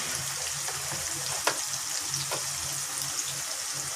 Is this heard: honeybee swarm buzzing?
no